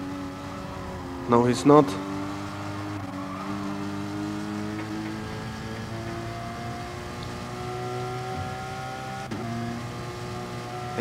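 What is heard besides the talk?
GT-R race car engine and tire squeal in GT Sport video game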